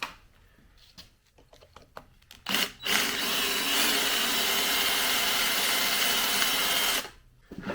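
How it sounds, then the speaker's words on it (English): Drill boring deeper into a seized part on a Honda XR70 engine, a sustained loud grinding whir for several seconds, preceded by scattered knocks and clicks and cutting off abruptly. "I drilled it a little deeper, hammered it a little harder"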